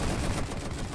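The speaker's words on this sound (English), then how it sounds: "It's really loud, the machine gun, isn't it?" Machine gun fire in the World War I strategy game The Great War 6.0, a loud, dense rattle of rapid shots filling a brief moment.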